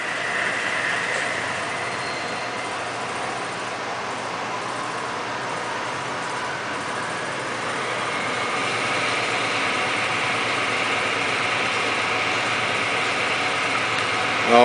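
A Victor toolroom lathe runs in high gear as its speed is brought up, a steady mechanical hum that grows louder partway through, with no one talking.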